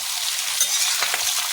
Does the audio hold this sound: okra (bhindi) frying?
yes